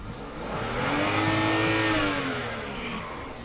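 A used car's engine revs up and eases back down in one smooth swell, close by and fairly loud, no talking, at a car market in Zhytomyr.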